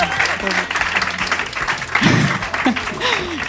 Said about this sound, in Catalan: Podeu aplaudir si voleu, que s'escolte.